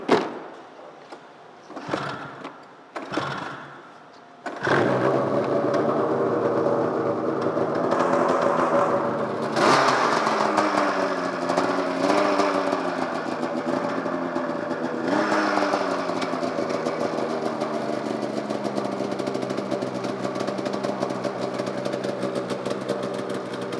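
A few short cranking attempts sputter, then a 2001 Arctic Cat Mountain Cat 800 snowmobile engine catches and settles into a steady, close idle with occasional slight revs.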